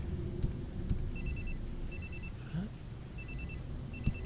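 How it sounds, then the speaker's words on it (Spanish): A telephone rings repeatedly in a room in the video game Alone, short electronic bursts recurring in a steady pattern over low background noise and a few thumps. "Suena el teléfono en esa habitación."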